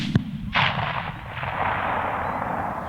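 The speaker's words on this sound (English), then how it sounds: "you can hear the impact of that bullet" A rifle shot cracks out during a night coyote hunt, followed half a second later by the dull thump of the bullet impact, then a long rolling echo fading across open country.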